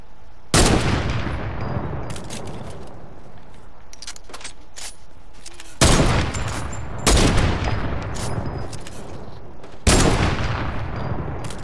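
Loud bursts of gunfire in the video game Fortnite, several sharp volleys spaced a few seconds apart over steady background game noise, with no talk.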